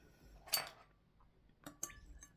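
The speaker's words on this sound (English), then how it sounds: "I'm going to stir it with a little spoon that I brought from the kitchen." A little spoon stirs a drink, making a few faint, separate clinks against the glass in a quiet room, with no speech.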